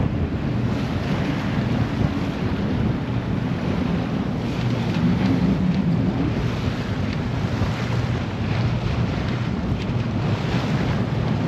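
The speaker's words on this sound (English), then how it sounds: "you can hear that wind really picking up now" Strong wind roars steadily across the microphone aboard a sailboat heading out of a marina into open water, a loud, unbroken broadband rush with wave and hull wash mixed underneath.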